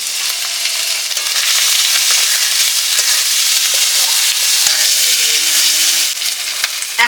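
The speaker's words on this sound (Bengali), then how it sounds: "মশলা থেকে তেল ছেড়ে দিচ্ছে, এখন আমি জল দিয়ে দিচ্ছি।" Onion, garlic, turmeric, salt and spices fry in oil for a lote fish curry, giving a loud, dense, continuous sizzle close up with faint stirring clatter.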